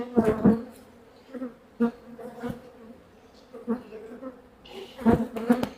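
Bees buzzing around a roof during a first beehive inspection, with a steady low hum broken by louder close passes and rustling handling sounds near the start and the end.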